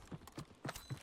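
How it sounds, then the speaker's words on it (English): Enemy footsteps in Warzone land as four quick, evenly spaced thuds on a hard surface, close and fairly soft. "I hear this guy's footsteps"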